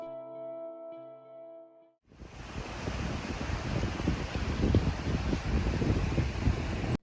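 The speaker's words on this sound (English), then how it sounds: "enjoying the sounds of the river before heading to bed" A brief tonal hum fades out, then a steady rushing roar of a river in Estes Park, Colorado takes over, continuous and fairly close, in the evening.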